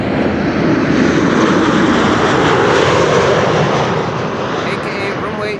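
A plane arriving on runway 06 at Amsterdam Schiphol roars loudly overhead, a broad sustained engine rush that peaks and slowly fades, with someone talking underneath.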